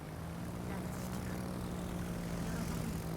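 Torpedo bomber aircraft in the naval game World of Warships, a steady propeller engine drone with a constant low hum, holding level throughout, with a voice talking over it.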